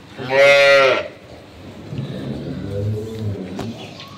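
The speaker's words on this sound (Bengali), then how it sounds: "নুরু একটু গরুটার কাছে যাও, দাঁড়াতে দেখো গরুটার হাইট দেখতে পারবেন" A single loud, drawn-out moo from a dairy cow up close on a dairy farm, followed by quieter background noise and low rumbling.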